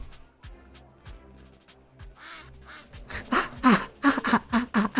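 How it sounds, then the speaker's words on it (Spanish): A duck quacks in the video game Lil Guardsman, a run of nasal quacks that starts sparse and faint and then turns loud and rapid over a soft musical backdrop. "Se ha transformado en un pato por usar mucho las cartas"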